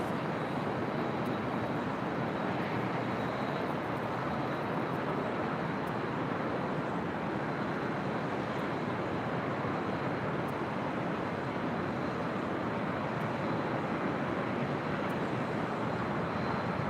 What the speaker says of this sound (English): Do have a Delta A321 about to depart on 24 left